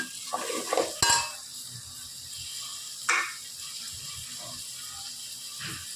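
Potatoes sautéing in a pan for a Tamil black-eyed pea curry, a steady low sizzle with a few sharp spoon-against-pan scrapes and clinks, close by, no talking.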